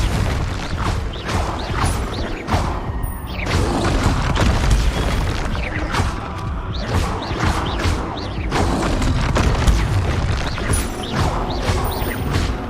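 Repeated fiery blasts and crashing impacts from Confringo and other spells in the Hogwarts Legacy video game, a dense, loud barrage with whooshes and booms filling the whole stretch, no talk.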